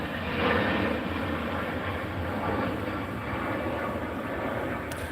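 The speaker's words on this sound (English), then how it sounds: "Oh, here come the planes." Aircraft pass overhead as a steady, fairly loud broadband engine roar that swells slightly early on and holds for several seconds, with no talk over it.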